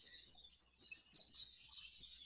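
Budgies chirp in an exhibition aviary, a continuous thin high twittering from several birds at moderate distance, fairly faint, with no talking.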